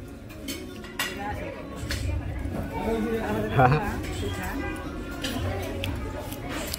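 A spoon clinks and scrapes against dishes while rice is eaten at a family meal, light irregular taps and chinks under ongoing chatter from several people.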